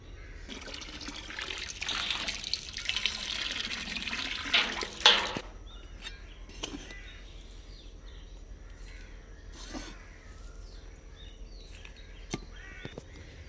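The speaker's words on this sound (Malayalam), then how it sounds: "ഇതിൽ ഈ പോണിലാണ് വെള്ളം എടുത്ത് വെക്കണത് ഓസിട്ട് അപ്പോൾ ഇതാദ്യം നിറക്കട്ടെ" Water gushes and splashes from a hose into a pond for a few seconds, then settles to a softer trickle while crows caw nearby.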